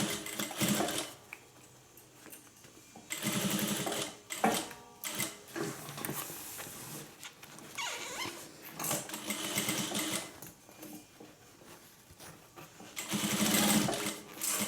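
A sewing machine back stitches along a bag seam for a hippie van style bag, running in several short bursts with pauses between them.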